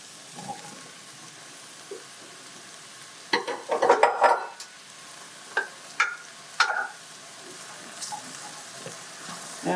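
Squash and green onions fry in a pan on the stove, a soft sizzle under bursts of spoon scraping and stirring clatter, the busiest stretch in the middle followed by a few sharp knocks.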